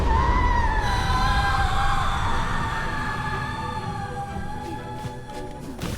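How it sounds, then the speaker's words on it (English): Characters in Silksong screaming together, a long, sustained, wavering cry from several voices that slowly fades over a low rumbling backdrop. "I like that they scream together"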